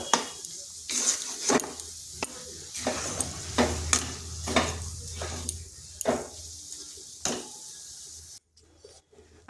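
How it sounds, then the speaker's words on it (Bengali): Gram flour (besan) being stirred in a pan over low heat, with repeated scraping strokes at a steady rhythm over a soft sizzle, close by, ending in a brief quiet moment. "এরপর বেসনটা এইভাবে নাড়তে হবে।"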